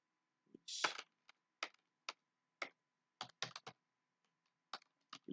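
Someone types on a computer keyboard in a quiet room: sharp, distinct key clicks in irregular bursts, a quick flurry at first, then scattered single taps and short clusters, close and clear with silence between.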